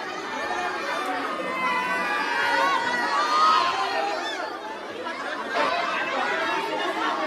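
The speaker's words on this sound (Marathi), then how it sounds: "गर्दी बघा गर्दी." A large crowd at a village festival palanquin procession for Bajrangbali fills the air with a dense, continuous hubbub of chatter and occasional shouts, steady and close throughout.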